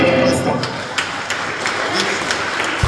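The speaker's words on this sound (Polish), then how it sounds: "No to brawa dla Państwa" Applause from the audience at a business awards gala, a broad burst of clapping that swells at the start and carries on under a voice speaking over it.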